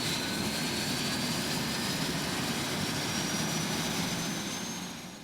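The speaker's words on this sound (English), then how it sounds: "There is something exhilarating about the sound of a chopper firing up." A helicopter fires up for a heli fishing trip at Stonefly Lodge, New Zealand, its turbine whine and broadband engine roar filling the air steadily and loudly, with a thin high tone slowly rising as it spools up.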